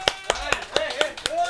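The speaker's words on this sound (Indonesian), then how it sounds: "Tepuk tangan." Hands clap in a steady rhythm, about seven sharp, close claps spaced evenly, with voices talking between them.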